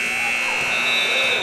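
A loud, steady electronic buzzer sounds the end of a period at a boys' varsity high school basketball game, Pisgah at Franklin. It holds continuously for the whole moment over gym noise and voices.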